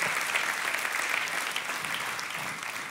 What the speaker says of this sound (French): Est-ce qu'on peut les applaudir, les honorer?